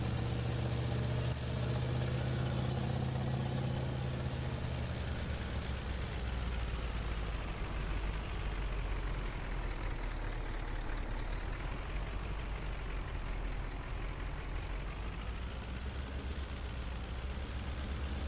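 A truck engine rumbles low and steady in Farming Simulator 19, with an air-brake hiss early on, a continuous mechanical drone with no talk over it.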